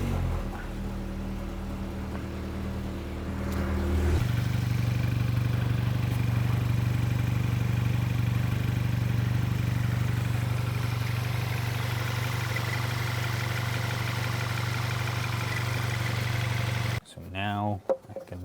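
A Mk7 Volkswagen GTI engine, freshly upgraded with an IS38 turbo, starts after a few seconds of quieter background and settles into a steady, close, loud idle drone that runs until an abrupt cutoff near the end.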